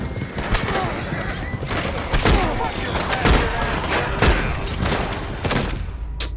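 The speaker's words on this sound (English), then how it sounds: "They shooting the wheels." Gunfire from Red Dead Redemption 2 online on PS5 cracks repeatedly in sharp, irregular shots amid a busy game mix, with a voice speaking over the action.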